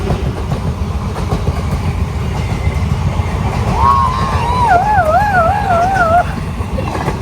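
A train rolls past near a railway station by a home, a steady low rumble and rattle of wagons sustained throughout, with a high wavering squeal rising over it near the end.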